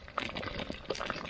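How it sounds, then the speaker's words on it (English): Hot oil bubbles and crackles inside a pie iron holding hot wings over a campfire, with quiet, irregular popping and sizzling heard close. "Oh, you can hear that oil bubbling."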